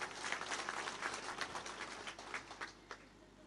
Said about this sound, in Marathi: या सर्वांचं आपण टाळ्या वाजवून एकदा अभिनंदन करूया